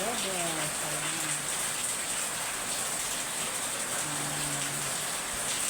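Steady, dense heavy rain roars evenly throughout, a continuous wash of drops with a faint voice briefly audible early on.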